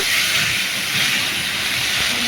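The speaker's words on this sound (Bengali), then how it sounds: "দেখো এখানে দিয়ে দিচ্ছি নারকেল বাটা" Coconut paste hits hot oil in a pan with onion, turmeric and chilli powder, giving a loud, continuous close hiss that stays steady throughout.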